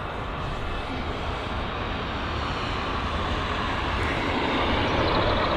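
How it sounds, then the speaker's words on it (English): A Swiss Airbus A220 airliner at London Heathrow gives a steady, broadband jet roar that holds at a constant loud level throughout, with no talk. "So we've got the Swiss A220, so as promised"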